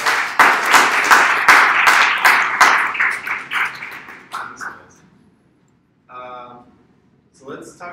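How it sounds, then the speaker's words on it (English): A lecture audience gives a round of applause, a dense burst of close clapping that lasts a few seconds and then fades out, followed by silence and a few brief spoken words. "Let's give Eric and Jason a round of applause"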